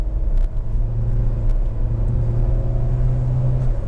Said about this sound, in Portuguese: Esticar um pouquinho mais aí desse motor aqui.